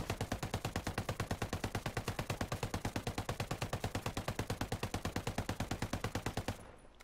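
Full-auto fire from an MK17 assault rifle in Ghost Recon Breakpoint, a long unbroken stream of rapid, evenly spaced shots lasting over six seconds that stops abruptly.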